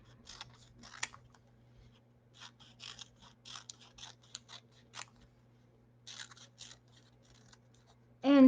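Scissors snipping through a sheet of paper being cut into quarters, a series of quiet, crisp cuts in short bursts with pauses between, close and faint.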